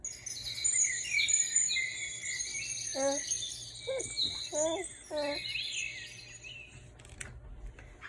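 Birds sing together in a flower garden in the morning, with overlapping bright chirps and trills over a faint insect hum and brief lower whistled notes.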